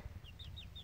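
Baby chicks peep softly, four thin, high chirps in quick succession, faint over a low rumbling background.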